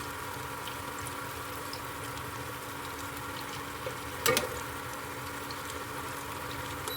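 Avarekalu vada, a fritter of hyacinth beans, frying in hot oil, a quiet, steady bubbling sizzle throughout, broken once by a brief, sharp clatter midway, with no speech.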